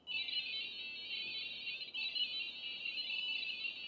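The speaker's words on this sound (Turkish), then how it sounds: "Kitin üzerindeki ultrasonik mesafe sensörü ile buzzer'ı kullanarak sanki bir tereminmiş gibi sesler çıkarabiliyorsunuz" An Arduino buzzer driven by an ultrasonic distance sensor sounds a sustained, wavering high-pitched tone that breaks briefly and resumes, gliding slightly like a theremin, quiet and close with no voices.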